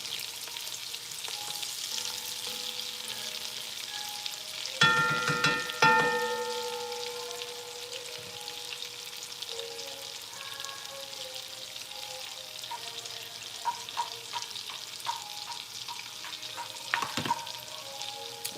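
Pieces of food for gumbo frying in a pan, a continuous close sizzle with occasional stirring clatters and scrapes, and no talking.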